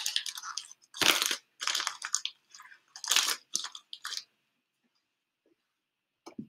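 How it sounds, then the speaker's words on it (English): A bag of ice is set on top of a plastic bottle, making several close crunchy, crackling rustles in short bursts, followed by quiet and a faint click. "Going to place the plastic bottle over top and place our ice bag on top."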